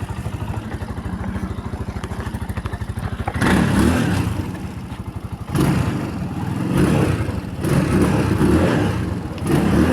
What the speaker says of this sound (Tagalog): Ay, ito motor to.